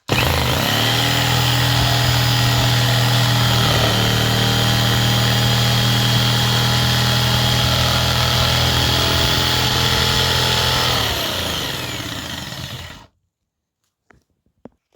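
A power tool cuts through two stacked ondulin roofing sheets, its loud steady whine running continuously for about thirteen seconds before stopping abruptly, followed by a few faint clicks.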